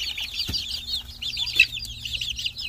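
Chickens cluck and peep continuously at close range, high-pitched and busy, with a single dull knock near the start.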